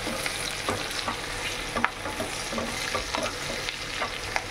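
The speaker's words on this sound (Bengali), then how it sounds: "হালকা পেঁয়াজটা লাল লাল হোক, জিরে, শুকনো লঙ্কা, গোটা গরম মশলা দিয়ে ফোড়ন দিয়েছি" Onion frying in a pan with cumin seeds, dried red chillies, bay leaf and whole garam masala, a steady close sizzle with small stirring scrapes and clicks throughout, no voices.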